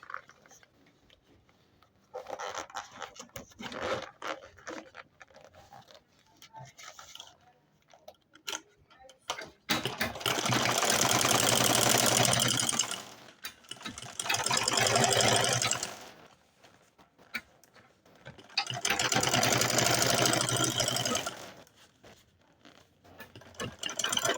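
A sewing machine stitching a fabric hand bag with lining runs in several loud, sustained bursts of rapid mechanical whirring, separated by quieter stretches of handling noise and clicks.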